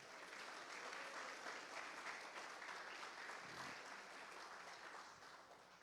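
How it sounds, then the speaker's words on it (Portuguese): A church congregation claps together in a sustained burst of applause during a sermon, a dense, even patter that fades slightly toward the end, heard at a moderate distance. "Aplauda o Senhor."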